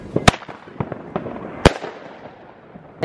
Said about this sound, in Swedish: det är fan raketer överallt alltså